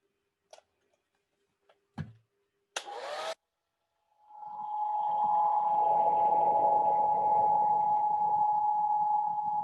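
After a few scattered clicks and a short rustle, a hair dryer starts up and blows steadily and loudly over a watercolor painting, a continuous whine-laden whoosh that holds to the end.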